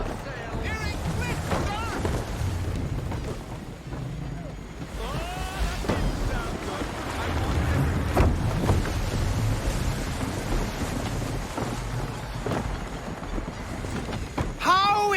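A sailing ship on the open sea in Assassin's Creed 3, with wind, rushing waves and creaking hull running steadily throughout, while voices speak over it.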